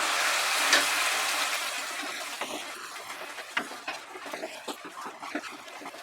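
Onion-based masala with garam masala sizzles while being sautéed for a vegetarian Bengali potol kalia, a soft hissing fry with scattered scraping stirs and clicks of a spoon, loud at first then settling quieter.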